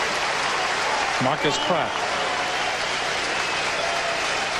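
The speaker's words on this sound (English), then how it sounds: "And the crowd applauds" Crowd applause at a 2000 SMU Mustangs vs. Hawaii Warriors college football game, a broad steady roar of clapping in a stadium, with a commentator's voice speaking briefly over it.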